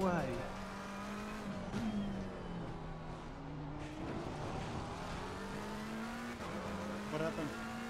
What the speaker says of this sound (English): I just braked way too late into the corner and sent it sideways